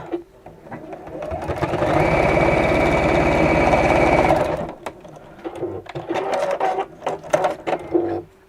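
A French seam stitched on a sewing machine, one loud continuous run of a couple of seconds up close, followed by lighter fabric handling noises.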